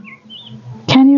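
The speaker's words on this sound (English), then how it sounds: "You can hear the birds chirping," Birds chirp in short, thin calls on a country farm on a morning after two days of rain. A few faint tweets come early, then a louder, abrupt sound cuts in at the end.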